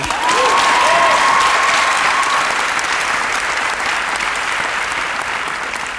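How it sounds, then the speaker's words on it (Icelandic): An audience at a singing audition for The Voice Iceland applauds loudly and steadily, with a brief whoop or whistle rising over the clapping early on before it slowly eases. "Ég var að klappa fyrir því"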